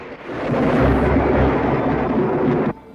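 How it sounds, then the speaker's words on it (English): Thunderstorm rumble from the 1989 horror film The Chilling, a loud, sustained roar of thunder with deep low-end weight lasting nearly three seconds before cutting off abruptly. "So the storm knocks out the power."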